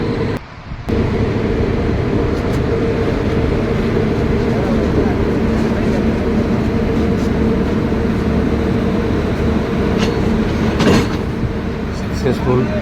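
Train noise at a station in Ahmedabad as a locomotive is coupled to the carriages: a steady, loud rumble and clatter of rolling stock with brief clanks, and people talking faintly in the background.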